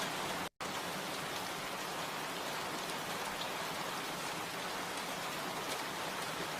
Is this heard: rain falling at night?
yes